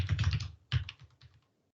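Short burst of typing on a computer keyboard during a command-line lecture, a quick run of close, crisp keystrokes, a pause, then a few more taps trailing off.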